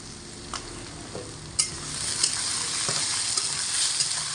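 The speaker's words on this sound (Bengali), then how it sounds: "এবার আমি আলুগুলোকে হাই আঁচে রেখে লাল করে ভেজে নেব।" Salted potato pieces fry in oil in a pan over high heat, a steady close sizzle with a few scraping stirs and clicks from a utensil, growing slightly louder partway through.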